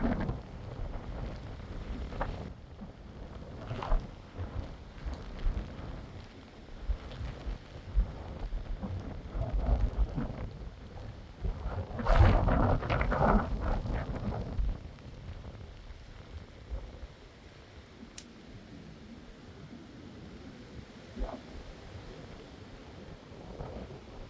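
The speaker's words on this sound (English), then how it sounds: "the wind is blowing very hard" Strong gusts of wind buffet the microphone outdoors at a Friesian horse stable in the rain, surging and fading in loud rumbling bursts, heaviest around the middle, with no talking.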